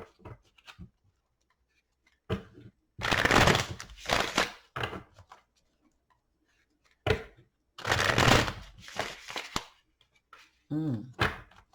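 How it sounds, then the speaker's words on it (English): Tarot cards are shuffled in two bursts of brisk riffling, each about two seconds long, with soft taps and handling noises between them. "Let's get 3 shuffles and then lay out 2 cards"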